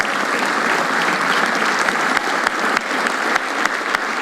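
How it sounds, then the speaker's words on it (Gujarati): Audience at a Gujarati stand-up comedy show applauding, a dense sustained burst of many hands clapping close and loud throughout. "એવરીબડી તાળીઓ થઈ જાય એના માટે."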